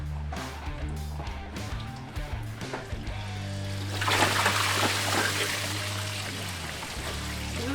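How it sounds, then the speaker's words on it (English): Orange coolant draining from a car engine's undone bottom hose, a close pouring and splashing trickle that grows fuller and steadier midway, with faint clinks and handling noises early on. "my bottom hose I'll undo to leak everything out"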